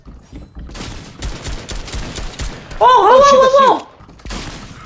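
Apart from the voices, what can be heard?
lever gun firing in Fortnite video game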